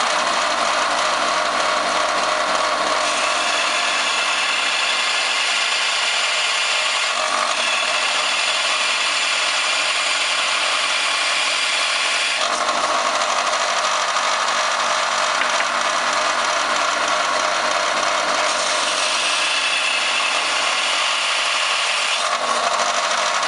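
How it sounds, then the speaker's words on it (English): Belt sander notching a stainless steel dip tube, a continuous loud abrasive whir and grinding close by, shifting in pitch and pressure in a few long passes, with no talk. "We're going to notch that about 1/4 of an inch with our belt sander"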